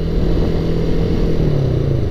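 A motorcycle engine drones steadily during a solo touring ride to Tanjung Pinang, loud and close with a constant low rumble and faint wind.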